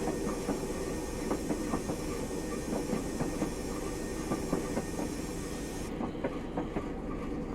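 A Class 121 diesel railcar in Train Simulator Classic rolls along steadily, its wheels tapping a regular clickety-clack rhythm over a constant low rumble of running noise.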